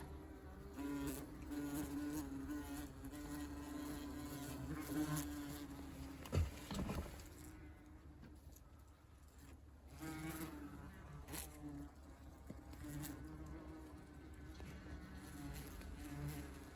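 Yellow jacket wasps buzzing around an extracted nest, faint overlapping drones and passing buzzes with a few soft knocks and rustles, heard alone and fairly distant.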